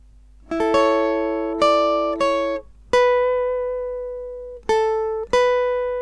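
Several plucked electric guitar notes ring out one at a time, a few held and bent upward a whole tone, clear and close with no voices.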